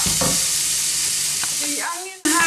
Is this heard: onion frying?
yes